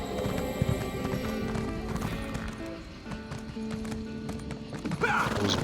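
Steady clip-clop of horse hooves with occasional neighing over a busy game soundtrack with music and effects.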